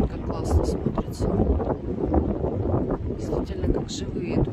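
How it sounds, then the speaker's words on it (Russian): Strong wind buffets the microphone on a seafront promenade in Novorossiysk, a steady low rumble running throughout under a voice. "Ветер все сильнее."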